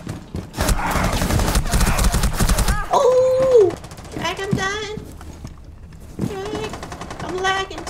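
Gunfire in Rainbow Six Siege comes as a dense rapid burst of automatic shots up close at first, then a few sparser shots follow among talking and high sliding tonal game effects.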